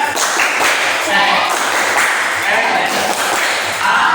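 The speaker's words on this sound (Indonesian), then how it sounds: "Tepuk ceria." A group in a counseling session claps together in a quick, steady rhythm, loud and close, with voices chanting "Tepuk ceria" along.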